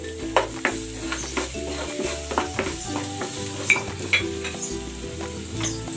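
Garlic frying in a pan for a braised pork dish, a steady close sizzle broken by scattered clicks and scrapes of stirring, with a low hum running underneath throughout.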